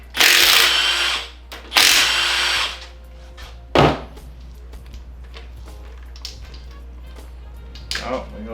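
A power tool whirs in two loud bursts while removing bolts on a Miata, then a short sharp burst, followed by quieter clinks and rustling with a low steady hum underneath.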